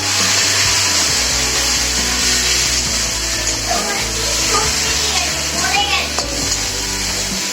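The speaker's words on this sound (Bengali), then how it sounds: "একটু ভাজা হচ্ছে পেঁয়াজ টমেটোটা" Onion and tomato with a little turmeric fry in a pan for chicken biryani, giving a loud, constant, hissing sizzle that runs throughout while a voice talks faintly beneath it.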